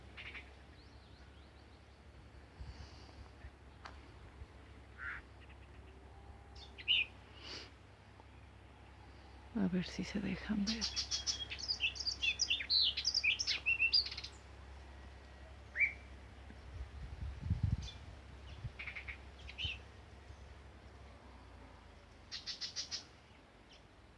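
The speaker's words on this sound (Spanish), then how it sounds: "así me reciben los pajaritos cuando llego caminando" Small birds chirp and sing along a quiet farm path in the countryside, scattered calls and a busier burst of song near the middle over calm background, with a soft voice speaking briefly.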